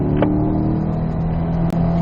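Chevrolet C8 Corvette engine pulling hard on a race track out of a corner, a steady loud droning roar close to the microphone with no voices.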